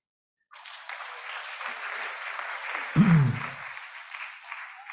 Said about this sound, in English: Please applause about this.